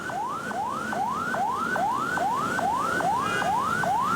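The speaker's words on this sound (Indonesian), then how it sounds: "Kita lihat mobil ambulans jenazah yang Titi Puspa kembali terhenti karena kepadatan." An ambulance hearse's siren wails in repeated rising sweeps, about two per second, steady and fairly close amid congested Jakarta traffic on Jalan Raya Pasar Minggu, over a low road rumble.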